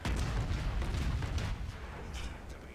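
Naval gunfire booms from a warship in World of Warships, a dense, rumbling stream of heavy low blasts with sharper cracks over a steady roar of engine and water noise throughout.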